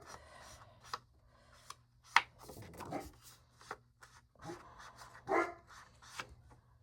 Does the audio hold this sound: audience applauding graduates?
no